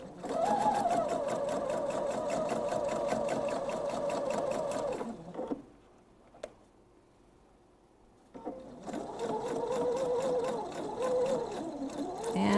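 A sewing machine stitches a seam with a steady rapid whirring hum, pauses briefly with a small click, then resumes stitching at the same even pace, close and clear.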